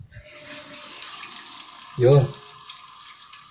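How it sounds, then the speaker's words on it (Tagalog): After the valve on a toilet bowl's water tank fittings is opened, water gushes loudly into the tank for a moment, then settles into a low running hiss while a person speaks. "Mukhang nare-refill na niya yung tangke ng tubig."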